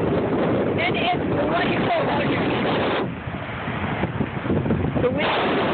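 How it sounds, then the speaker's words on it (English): Gusty wind on Chandler Beach along Lake Michigan roars and buffets steadily, with a person speaking briefly over the blustery noise. "The wind."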